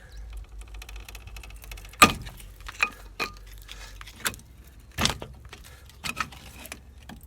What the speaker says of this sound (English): you wind the caliper all the way back in with the use of a good strong screwdriver